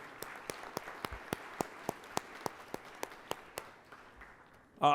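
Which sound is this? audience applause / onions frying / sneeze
audience applause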